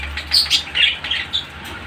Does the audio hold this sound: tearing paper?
no